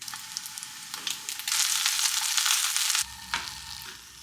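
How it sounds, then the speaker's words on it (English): A tuna steak fries in olive oil in a pan, close crackling sizzle that swells loud for a couple of seconds then drops back to a quieter hiss with a few pops. "Add a little olive oil. You're supposed to pat it dry, and you just cook each side for 2 to 5 minutes."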